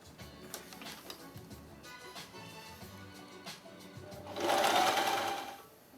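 Zigzag stitching from a sewing machine running along the edge of a bamboo towel, a steady rapid mechanical whirr with a louder, denser burst toward the end, heard alone without talk.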